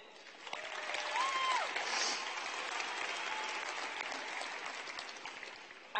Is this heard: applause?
yes